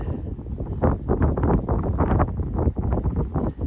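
Wind blowing across an open field, buffeting the microphone in steady, rumbling gusts that fill the short stretch from start to finish.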